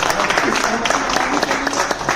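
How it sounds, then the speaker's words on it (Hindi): Audience at a New Year kavi sammelan poetry gathering gives a burst of steady, close applause, dense clapping throughout the short stretch. "एक बार तालियां आज के कार्यक्रम के लिए।"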